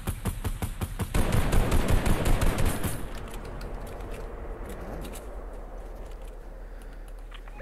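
Rapid bursts of gunfire from a sniper-focused shootout in an early Fortnite season, dense and loud for the first three seconds, then thinning into scattered softer shots and background game noise.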